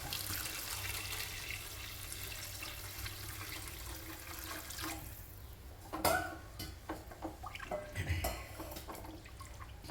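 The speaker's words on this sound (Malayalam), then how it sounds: "ഇതിലേക്ക് ആവശ്യത്തിന് വെള്ളം ഒഴിച്ചു" Water poured into a cooking pot in a home kitchen, a faint running, trickling flow for several seconds, then quieter with scattered knocks, clinks and drips near the end.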